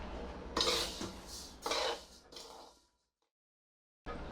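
Thalipeeth bhajani flour mix roasting in a pan over a low flame while being stirred, heard as a few soft, dry scraping strokes that stop in silence before another begins.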